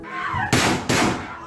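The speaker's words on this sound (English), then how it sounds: "This cell phone video captured the gunfire and the screams of the high school students trapped inside their classrooms." Gunfire in a high school shooting captured on a cell phone, three sharp loud bangs in quick succession, harsh and distorted at close range with no talk.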